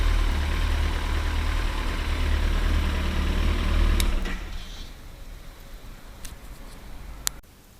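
A 2012 Kawasaki ZX14R motorcycle on its stock exhaust idles with a loud, steady low rumble that drops away about halfway through, leaving faint ticks and a quieter tail.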